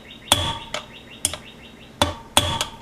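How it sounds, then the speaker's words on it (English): A small bearing tool hammer gently taps a rear wheel bearing on a 1973 Honda CB750, sharp metallic knocks in uneven pairs, about seven in all, close and clear with quiet between. "I'm going to give this bearing just a gentle tap with a bearing"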